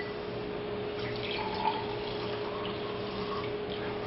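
Earl Grey tea poured into a cocktail shaker gives a steady, close liquid trickle that stays even for a few seconds, a soft stream with a faint splashy edge and no talking.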